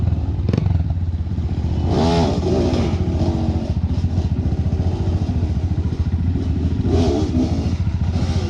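A Sherco 300 two-stroke dirt bike engine idles and revs in short bursts nearby on a rough trail, with a steady loud putter and occasional clattering.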